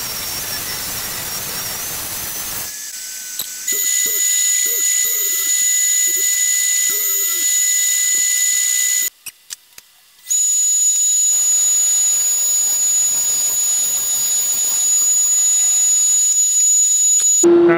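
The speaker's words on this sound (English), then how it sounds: "So I'm gonna have to take off about 5 mil before I can plane the edge." A wood edge is being planed for veneer edging on a circular table. A loud, steady machine roar runs throughout, cuts out briefly midway, then resumes, with no voices.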